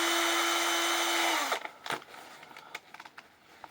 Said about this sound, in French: moi je vais percer et puis je vais fileter ça